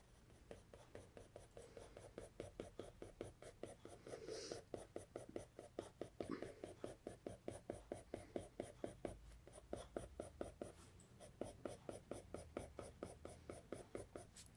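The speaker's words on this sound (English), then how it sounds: "I'll go like this and try to throw some shading on there." A pencil shades a small cone drawing on paper in quick, regular back-and-forth strokes, a close, soft scratching rhythm that continues throughout with faint murmuring in places.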